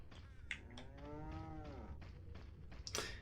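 A cow lowing in the Resident Evil 4 video game, one drawn-out moo lasting about a second with faint thuds and clicks around it, no talk.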